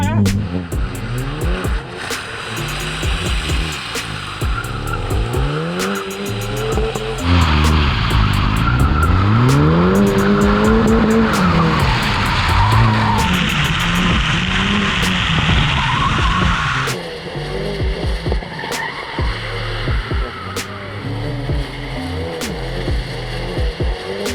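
Front-wheel-drive car doing tray slides, with loud sustained tire squeals and skidding over a revving engine that rises and falls in pitch, continuous and close throughout.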